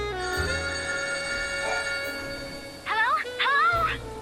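A telephone rings twice in the video game Lightning Returns: Final Fantasy XIII, two loud warbling trills over a steady sustained music drone.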